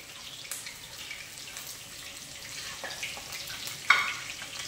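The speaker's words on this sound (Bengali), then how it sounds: "লাল লাল করে ভাজা হয়ে গিয়েছে পকোড়া আমার" Chicken pakora fries in hot oil, a soft continuous sizzle and crackle with a few faint clinks and stirring sounds, quiet and close with no talking.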